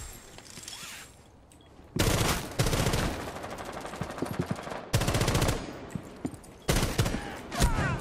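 Bursts of loud 12-gauge shotgun fire in Rainbow Six Siege, several heavy blasts and rapid volleys in clusters separated by brief quieter gaps.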